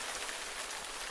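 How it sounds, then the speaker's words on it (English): Heavy rain pours down on a campsite during an elk hunt on Colorado public land, a dense, steady hiss of drops hitting surfaces that fills the whole clip, loud and unbroken. "Not much else to do when it's pouring rain besides go get soaking wet"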